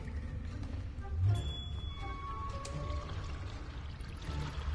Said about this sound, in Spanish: Vale, esto añade agua.